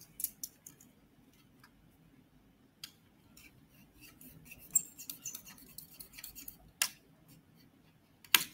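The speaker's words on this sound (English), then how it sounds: "Then cut both of the wooden skewer and make sure the skewer a bit longer than the straw" Scissors snipping through wooden skewers for a balloon-powered car build, giving a series of sharp, close clicks and crunchy cuts spaced irregularly, with a couple of louder snaps toward the end and no talking.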